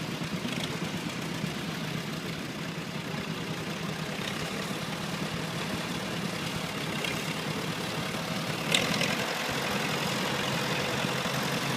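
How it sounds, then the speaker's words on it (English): An antique Glen Creeper 1938A tractor engine runs steadily at idle with a rough, low rumble, one brief knock or clank partway through, and no talking over it. "So they are a unique tractor, and they run different."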